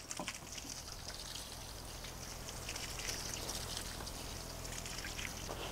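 Rainwater from a water butt poured steadily onto a compost heap, a continuous splashing trickle that stays close and even for several seconds with no talking.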